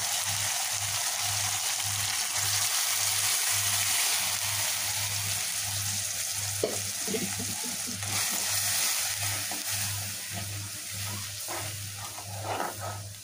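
Coconut milk goes into fried masala in a pan for prawn malai curry, giving a soft, continuous sizzling hiss with a low steady hum and a few bubbling spurts midway.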